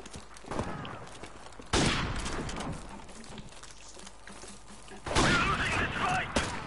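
Sniper rifle shots in Call of Duty Modern Warfare Remastered: two or three sharp, loud cracks spaced a few seconds apart, each followed by a short echoing decay.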